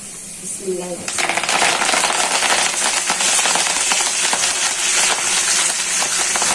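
Helencha greens tossed into hot oil with fried garlic set off a sudden loud, crackling sizzle after about a second that keeps up steadily and close. A brief voice is heard just before it.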